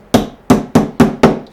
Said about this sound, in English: You don't want to hammer the outside of the die.